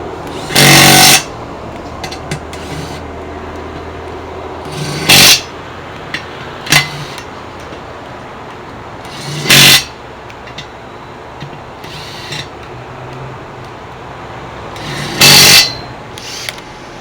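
A Makita power drill/screwdriver runs in several short loud bursts separated by quieter gaps, with sharp clicking as the clutch reaches torque, heard close up in a shop.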